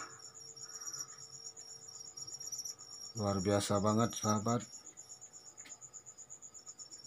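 Crickets chirp steadily in a breeding box, a constant high-pitched trill that runs throughout. A person speaks briefly in the middle, over the chirping.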